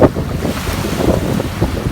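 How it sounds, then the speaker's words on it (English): Rough ocean water churning under strong wind, a loud continuous roar of surf and gusts buffeting the microphone, with no voices. "look at how rough that water looks."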